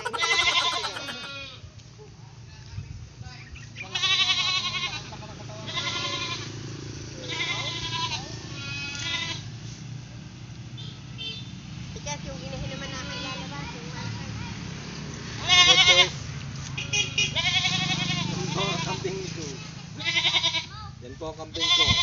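Pet goats bleat repeatedly and loudly close by, with long wavering cries spaced through the clip, mixed with people talking in Tagalog.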